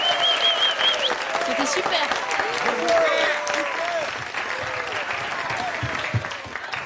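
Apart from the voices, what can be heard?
applause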